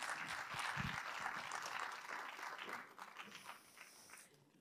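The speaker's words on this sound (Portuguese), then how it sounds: "Uma salva de palmas para eles." Audience applause for a pair of dancers from a dance academy at a concert in Espinho, a dense burst of clapping that holds steady and then thins out toward the end, with faint voices in the hall.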